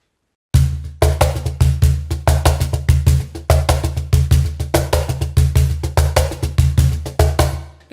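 Hand percussion groove in steady sixteenth notes, with a sharp slap stroke replacing the bass tone in each cycle; deep booming bass hits and crisp attacks repeat evenly, loud, close and unaccompanied.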